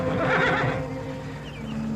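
A horse gives a clear, close whinny that rises and fades within a second, with light clip-clop and background ambience continuing after it, in a Western ranch setting.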